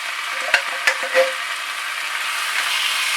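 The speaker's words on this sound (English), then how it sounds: "Give them a good mix around." Drained tinned lentils mixed into a simmering vegan vegetable stew in a pan: a few quick spoon knocks and scrapes over a steady sizzling hiss, close by, with no speech.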